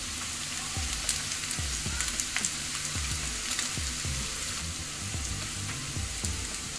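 Finely chopped capsicum fries in a pan with a continuous sizzle and a run of soft, rhythmic crackles and pops close by.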